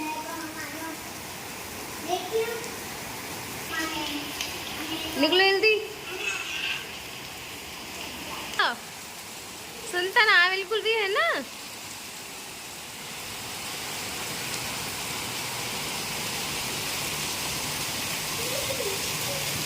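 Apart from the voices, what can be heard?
very heavy rain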